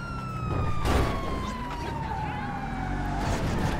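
A 1970s police car siren in GTA 5 Online wails steadily and loudly throughout, its gliding tone sweeping over engine and traffic rumble, with a voice talking underneath.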